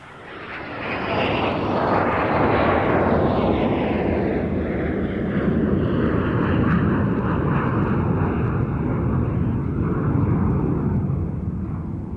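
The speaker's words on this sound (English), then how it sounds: "The BAC 111 was a very successful short-haul airliner which first flew in 1963." A BAC 111 jet airliner passes at the Duxford airshow, its roaring engines swelling to a loud, broad-band rush that holds steady and then slowly falls away, with the pitch sliding down as it recedes.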